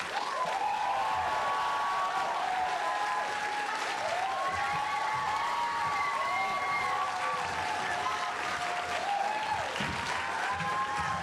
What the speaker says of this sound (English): You can clap more if you want to clap now.